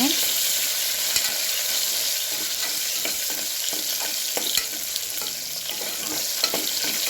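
Small shallots frying in oil, with a continuous, close hiss and occasional sharp crackles and pops from the pan throughout, no talking.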